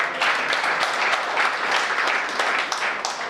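Steady audience applause fills a political speech rally in India, a dense, even wash of many hands clapping at close range for a few seconds with no one speaking.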